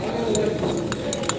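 A glass rod or spoon clinks against a glass vessel while stirring alum solution, a few bright, quick taps spread over the moment, heard beneath people talking nearby.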